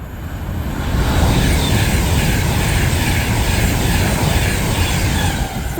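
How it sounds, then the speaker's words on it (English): An Avanti West Coast Class 390 electric train from London Euston to Stockport passes close by at Berkhamsted, a loud, steady rushing roar that swells within the first second and holds without voices. "we also have past 3 now an Avanti West Coast Class 390 running from London Euston to Stockport"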